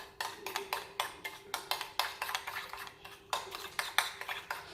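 A spoon mixes mayonnaise and sugar in a bowl, giving soft, quick, rhythmic clinks and scrapes, close and fairly quiet, with no talking.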